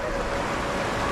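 The Giri river flows nearby in a steady, close, broadband rush of water with no breaks and no voices.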